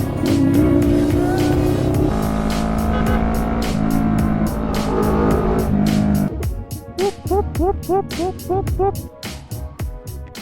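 A 450 motorcycle engine revs loudly and steadily, then breaks into choppy throttle blips near the end, with people talking over it.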